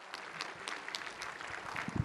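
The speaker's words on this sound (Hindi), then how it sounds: "जोरदार तालियों से स्वागत करता हूं सर आपका।" Live audience applause at a summit welcoming a chef on stage, a steady wash of clapping lasting about two seconds with no talk over it.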